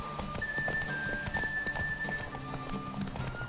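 Horse galloping in The Witcher 3, a quick run of rhythmic hoof clip-clops over a faint background tone, fairly quiet and close.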